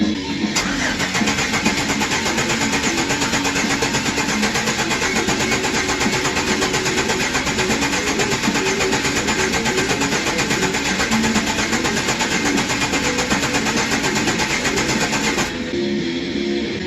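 A 2008 Express engine with a misfire cranks continuously for about fifteen seconds, a loud, steady churning drone that never catches, then stops abruptly.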